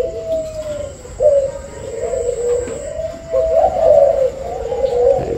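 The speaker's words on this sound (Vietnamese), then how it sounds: "vừa nghe được giọng gù của số 5" A breeding pair of doves coo repeatedly nearby, soft rolling low calls in a steady rhythm, loud and close with faint background noise.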